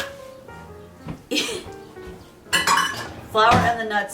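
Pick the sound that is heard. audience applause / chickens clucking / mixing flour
mixing flour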